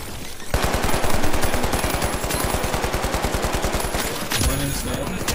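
A turret in The Finals fires a long, rapid burst of evenly spaced shots, loud and close, then pauses briefly before the firing resumes.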